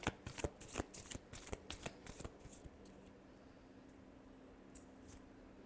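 Tarot cards shuffled by hand in a quick run of crisp riffling flicks, close and distinct, then fading to a near-silent pause with a couple of faint taps.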